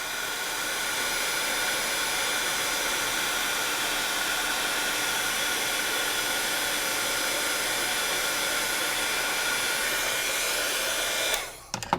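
A heat embossing tool blows a steady, loud, continuous whoosh close by, melting embossing powder on a Christmas card stamp project, running evenly for about eleven seconds before cutting off abruptly.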